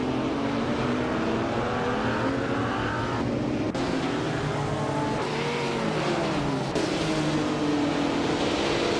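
Race cars in a racing video game run bumper to bumper, a steady, loud engine roar with overlapping revving tones rising and falling as the cars jostle for fourth place.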